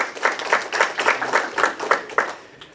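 Many hands clap at a Singapore venture day panel, a brisk, even patter from the audience that fades toward the end, with no voices over it.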